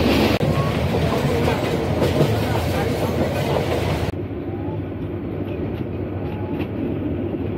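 The 707 Tista Express passenger train rolls along the rails in Bangladesh, a loud continuous rumble with clattering wheels heard from on board, dense and unbroken throughout with a slight drop in tone midway.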